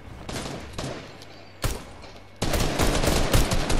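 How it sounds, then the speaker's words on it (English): Video game gunfire aimed at the players in a squads match: bursts of rapid shots come in waves, then a loud, dense sustained barrage at the end, close and harsh, with no talking. "Oh, we're getting shot."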